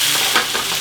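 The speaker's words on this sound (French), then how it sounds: "oignon, poivron dans la poêle. On égalise. On va les faire suer pour en fait les faire cuire." Onions and bell peppers frying in a pan, sizzling steadily and close, with brief stirring scrapes over the constant crackle; no voices.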